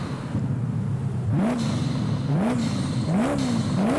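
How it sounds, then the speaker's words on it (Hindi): A modified Koenigsegg car revving loudly up close, its engine note rising in repeated swoops about once per second with turbocharger whine over a dense, steady roar. "टर्बो चार्जर्स की आवाज़ आ रही"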